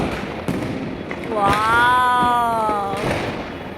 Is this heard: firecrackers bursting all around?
yes